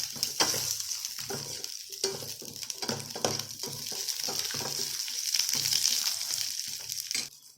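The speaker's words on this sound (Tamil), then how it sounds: "இப்போ இதை நல்லா வதக்கிக்கலாம்" Garlic, urad and other dals, onion and tamarind sautéed in a pan for chutney, a steady close sizzle broken by repeated scraping stir strokes, continuing alone without voices until it cuts off near the end.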